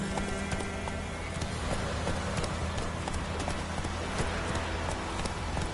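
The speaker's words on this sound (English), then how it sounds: "Run, Roach." Roach, a horse in a PS4 video game, gallops in a steady rapid clip-clop of hooves that runs the whole time, close and loud over dense game music and ambience.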